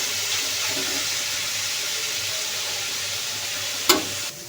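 Boiled greens fry and get stirred in a pan, giving a steady close sizzle with soft scraping, ending in a sharp clatter near the end.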